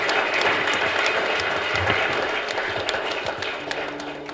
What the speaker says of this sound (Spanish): Un fuerte aplauso para Milena Isabel.